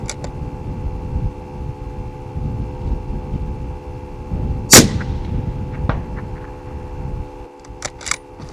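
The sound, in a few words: Bergara 6.5 PRC rifle shot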